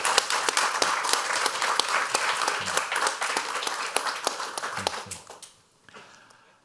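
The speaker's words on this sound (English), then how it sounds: "One applause first for the" Audience at a tech and entrepreneurship event applauds, mixed clapping with several sharp, distinct nearby claps standing out, gradually thinning and fading to near silence at the end.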